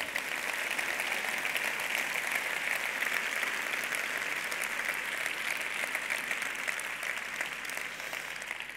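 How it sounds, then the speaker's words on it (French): An audience at a women's forum applauds steadily for nearly nine seconds, a dense, even wash of many hands clapping at a moderate distance, with no speech over it. "Je voudrais bien qu'on les applaudisse, s'il vous plaît."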